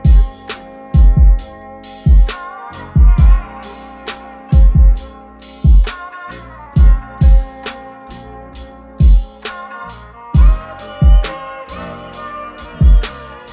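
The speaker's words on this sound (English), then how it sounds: "So with the kick, snare, hi-hats, and sample, this is what everything sounds like so far." A produced hip-hop beat with punchy booming kicks, snare hits and rapid 16th-note hi-hats over a melodic sample loop, playing steadily and loud for about thirteen seconds with no talking.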